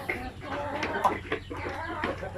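A Basilan breed rooster gives a few soft, close clucks in quick succession against quiet farmyard background noise.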